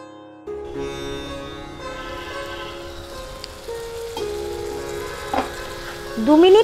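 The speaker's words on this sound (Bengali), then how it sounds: "এবার ঢাকনা বন্ধ করে মশলাটা হালকা আঁচে কষতে থাকবো।" Masala for Radhuni Tangra fish curry cooks over low heat in a covered pan in an open-air kitchen, giving a soft steady sizzle beneath sustained tonal sounds, with a brief louder rise near the end.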